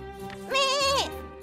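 A single sheep bleats in the video game Labyrinth of Refrain: Coven of Dusk, one clear, wavering cry of about half a second heard close and alone.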